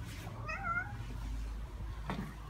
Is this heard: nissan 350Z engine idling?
no